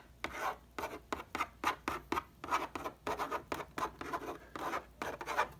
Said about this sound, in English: let me just clear my whiteboard here